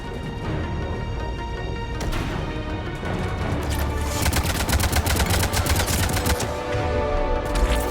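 Rapid gunfire from weapons in the video game Mass Effect 3 crackles loudly and without a break, with dense volleys of sharp shots that grow heavier toward the end.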